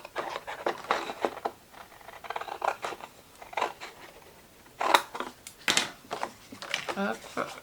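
Paper being cut with scissors for an explosion box craft, a run of short crisp snips in quick bursts with pauses, close by, mixed with someone talking.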